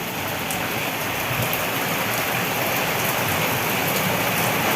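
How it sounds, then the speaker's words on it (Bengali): Steady, dense rain falling, a continuous hiss of drops close by with no voices or other sounds. "দেখো অনেক দিন পরে বৃষ্টি হলো তো ভালোই লাগছে"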